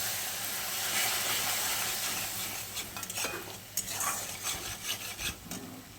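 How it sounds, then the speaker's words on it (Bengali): Salt, turmeric and red chili powder sauté in oil with a little water, giving a hissing sizzle up close that gives way to uneven scrapes and stirs of a spoon in the pan. "এখন আমি মশলাগুলো সব একসঙ্গে ভালো করে তেলের মধ্যে কষিয়ে নেব"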